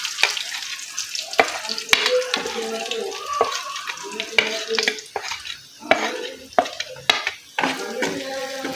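Oats puttu mixture stirred in a frying pan with green chili, sizzling steadily while a spatula scrapes and clatters against the pan in repeated irregular strokes, close and fairly loud.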